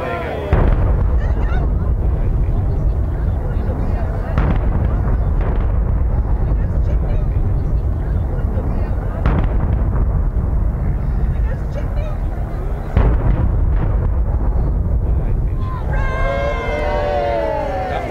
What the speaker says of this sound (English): a highly choreographed performance with explosions timed to take